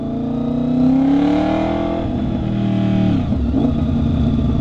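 Unmuffled motorcycle engine running loud and close, its raw exhaust note rising in pitch through a rev before dropping sharply as the throttle eases, then settling back into a rough, steady drone.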